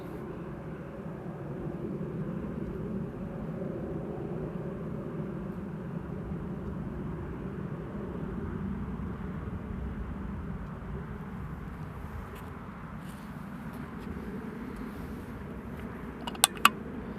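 An aircraft on approach to Amsterdam Airport in the rain gives a low, steady rumble that stays distant and faint, with a couple of sharp clicks near the very end.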